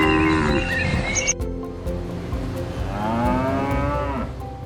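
Longhorn cattle lowing nearby, a long deep moo followed by another drawn-out bellow, over a low background rumble.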